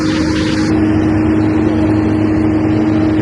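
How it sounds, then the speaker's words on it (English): A sea bus passenger ferry cruises away off downtown Vancouver, giving a loud, steady engine drone with a constant low hum and broadband rush of water and wind, no talking. "Got the sea bus just cruising away right there."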